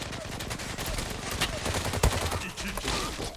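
Kar98 bolt-action rifle gunfire in the online shooter Zula on the Disco map, with loud shots and crackling fire layered over continuous battle noise, one sharp blast standing out near the middle.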